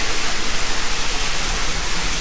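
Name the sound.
waterfall splashing while riding a waterslide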